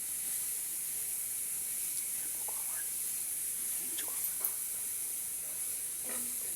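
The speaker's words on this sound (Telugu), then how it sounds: "ఇలా వేయించుకోవాలి." Grated carrots for carrot halwa fry in a pan with a soft, steady sizzling hiss, a few faint scrapes and clinks of stirring breaking through.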